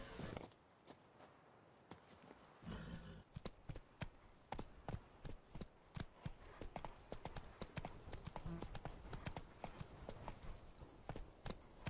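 Rapid, steady clip-clop of horse hooves galloping in a video game, with sharp rhythmic thuds over a low ambient backdrop, a brief pause early on, then continuous pounding.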